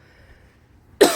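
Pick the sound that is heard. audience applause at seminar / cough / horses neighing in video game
cough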